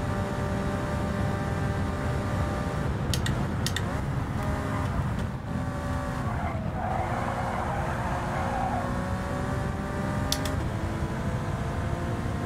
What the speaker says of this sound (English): This fast Porsche.